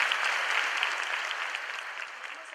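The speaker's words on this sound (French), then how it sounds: "pourquoi pas l'accompagner d'un applaudissement" Church congregation applauding to honor God, a dense, steady wash of many hands clapping that fades slightly toward the end, with no voices over it.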